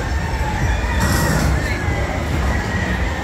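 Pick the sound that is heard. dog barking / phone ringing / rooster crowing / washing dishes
rooster crowing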